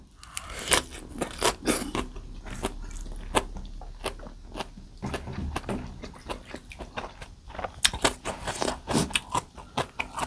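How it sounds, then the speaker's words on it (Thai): Crisp, loud crunching bites and chewing of fresh vegetables, irregular snaps close to the microphone, pausing briefly then resuming in quick clusters. "เหมือนเรากินผักแล้วมันดัง มันกรอบอะไรเงี้ยค่ะ"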